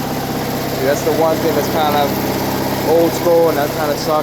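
A 1992 Scag zero-turn mower engine runs at a steady idle nearby, a continuous low rumble with some vibration, while someone talks over it throughout.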